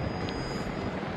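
Helicopters approaching in the video game Rise of the Tomb Raider, a faint steady rotor and engine drone with a broad hiss, continuous and without distinct beats, no voices over it.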